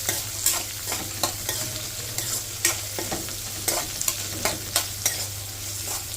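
Anchovies fry over a medium flame in a pan while a spoon stirs them, scraping rhythmically against the metal over a constant crackling sizzle, close and fairly loud throughout.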